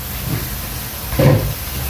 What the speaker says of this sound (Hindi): यहाँ पर हमारा पानी बॉईल हो गया अच्छे तरीके से।